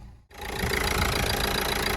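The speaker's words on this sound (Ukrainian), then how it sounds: "Двигун працює чудово, ніяких посторонніх шумів, ніякої вібрації" A 1.5-litre 81 kW diesel in a 2011 Renault Megane automatic idles under the open bonnet. After a brief gap, a loud, steady, close engine drone with an even mechanical chatter runs continuously to the end.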